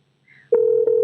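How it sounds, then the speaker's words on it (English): Telephone dialing tones give way to a steady, loud ringback tone with a brief break partway through, heard alone with no talk, on a morning radio show call. "So it's ringing now."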